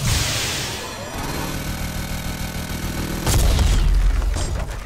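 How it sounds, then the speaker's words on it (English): A mech in the Mass Effect 2 video game blasts a path through a mountain with its machine gun, a loud sustained roar of rumbling blasts and bursts that swells into a heavier boom near the end. "the mech has just blasted free a path through the mountain"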